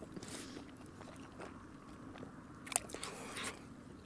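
Chewing and biting into freshly boiled camping food outdoors in sub-zero temperatures, with soft, close, intermittent crunchy bites and mouth sounds at low volume.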